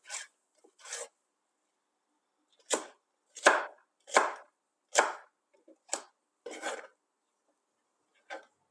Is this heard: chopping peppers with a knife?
yes